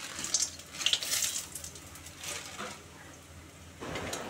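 Lentil dumplings (bori) fry in oil in a home kitchen, a soft sizzle running under clinks and scraping of a utensil against the pan, with a few bright metallic taps early on and a faint bird in the background.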